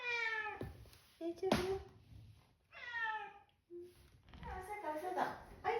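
A cat meows several times in clear, drawn-out, close cries with pauses between them, while a person speaks softly nearby.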